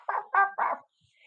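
Three loud, close dog barks in quick succession over about a second, each short and harmonic, followed by near silence.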